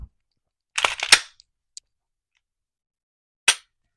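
A Glock pistol trigger is dry-fired in a quiet room, giving a short cluster of sharp mechanical clicks, then a single tiny tick and one last crisp click a few seconds later. The clicks are close and dry, with no voices.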